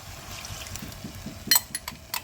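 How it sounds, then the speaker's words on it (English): Chicken stock poured into a pan for a chicken mash pie, a quiet, soft liquid trickle ending in a few sharp clinks. "Now we're going to pour in our stock."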